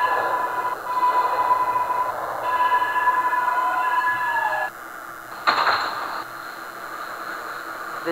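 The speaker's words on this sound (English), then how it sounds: "Stand clear of the closing doors, please." Subway train doors closing in the OpenBVE simulator on a crosstown 9 local train: steady warning tones ring over the car's hum, then the doors shut with a single solid thud.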